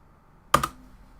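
A single quick burst of two or three computer keyboard keystrokes, close and crisp, in an otherwise quiet room.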